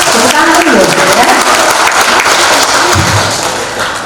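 An audience at a regional government gathering in Poso applauds, dense sustained clapping close and loud, fading slightly near the end as a low voice begins.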